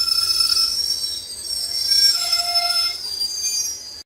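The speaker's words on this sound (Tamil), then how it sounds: "இன்னொரு ஏதோ ஒரு பெரிய ரயில்வே ஸ்டேஷன் கிராஸ் பண்ணிட்டு இருக்கோங்க" The 16511 Kannur Express passing through a railway station, with a steady rolling rumble overlaid by high, sustained metallic wheel squeals that rise and fade, heard from on board.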